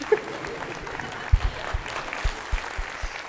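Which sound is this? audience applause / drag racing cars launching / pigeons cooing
audience applause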